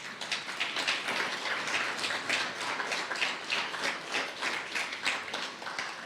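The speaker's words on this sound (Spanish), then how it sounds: "Dale un fuerte aplauso a Dios en esta mañana." Congregation at a church service applauding steadily for several seconds, a dense wash of many hands clapping with no voices on top.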